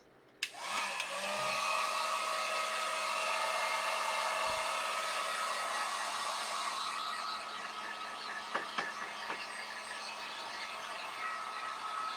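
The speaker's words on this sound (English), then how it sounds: "I'm just going to take my heat gun and I'm going to dry this a little bit" A heat gun drying paint on white pumpkin fall decor blows a loud, steady whooshing roar that starts abruptly and runs continuously, with a few faint clicks near the end.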